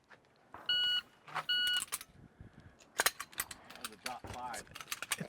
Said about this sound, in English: It's almost one beep